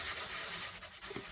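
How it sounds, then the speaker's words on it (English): Sandpaper rubs briskly over the raised embossed part of a foil card in a quick, close, steady scratching sound with no voices. "I'm just sanding off the embossed, the raised part of the embossing"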